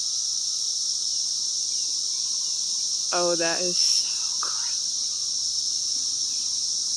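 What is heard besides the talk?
cicadas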